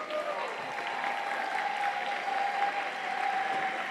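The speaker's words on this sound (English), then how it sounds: "please give those teams a big round of applause for the hard work that they've done this week" A crowd at a FIRST robotics district event applauds the competing teams, producing steady, sustained clapping and cheering in a large venue, with a faint tone running underneath.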